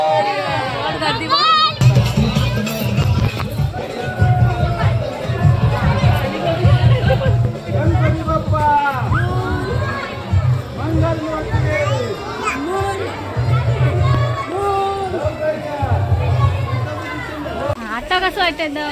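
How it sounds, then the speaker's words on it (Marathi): A dense festival crowd celebrating Ganpati, with continuous hubbub of many voices, children's shouts and chatter over a steady rhythmic low drumming pulse throughout. "गर्दी"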